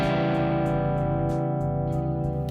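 A sustained electric guitar tone breaks up into gritty, saturated distortion through tape emulation, with held notes buzzing and smearing together at a steady, moderate level.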